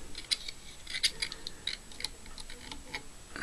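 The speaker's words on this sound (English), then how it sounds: "Try these scissors here, they got little finer points on them." Fine-pointed scissors snip away excess material while tying a white zonker streamer fly, a run of small, crisp, quiet clicks at an irregular pace with no voices.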